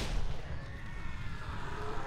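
Gunfire in the video game Dead Island Riptide, dense rapid booming shots blending into a continuous loud rumble, heavy and close throughout.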